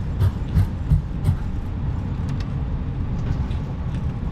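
Airbus A320 jet engines roaring in reverse thrust after touchdown in a flight simulator, a steady loud low rumble with a few thumps near the start as the airliner decelerates on the runway.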